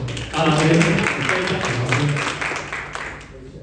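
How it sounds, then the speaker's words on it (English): A round of applause closes a project briefing day in an office room, moderate clapping from a small group that fades gradually, with people talking over it throughout. "Okay, round of applause."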